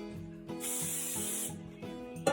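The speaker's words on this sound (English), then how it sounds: "We're gonna spray just on the bottom." Cooking spray hisses onto the bottom of a baking pan in two steady bursts, a long one then a shorter one, close by with light clatter around it.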